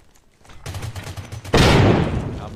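Video game firefight gunfire: a rapid burst of shots builds from about half a second in, then a much louder, dense volley erupts at the midpoint and rolls on to the end with heavy low boom.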